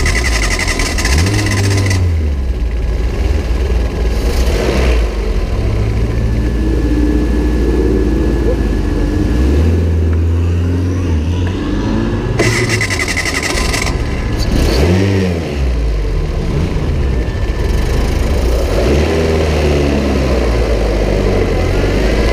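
Race car engines start and rev loudly and close, with repeated rising and falling revs and buzzing idles over a continuous roar.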